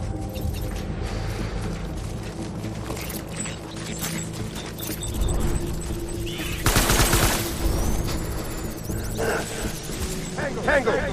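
Rapid gunfire bursts in a Vietnam War video game firefight, dense and continuous with a louder volley midway, over game noise and shouted voices.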